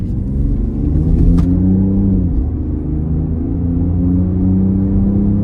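Genesis GV80 with the 3.0 diesel engine accelerating, a loud, steady low rumble heard from inside the car that holds a constant drone with a slight dip in pitch partway through.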